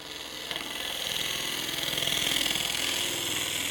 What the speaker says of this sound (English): I'm going to switch to this tool that's going to let me do some shear scraping on here.